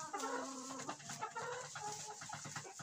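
Pushkin breed hens from a flock of last year's birds cluck busily on a farm, with overlapping close calls and short squawks in a steady chatter.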